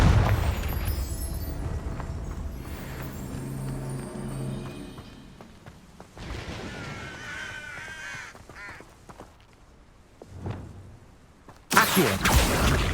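Confringo fire spell in the video game Hogwarts Legacy, a booming blast at the start that rumbles and fades over several seconds, followed by cawing bird calls and a second sharp burst near the end.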